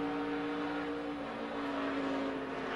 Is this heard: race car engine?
yes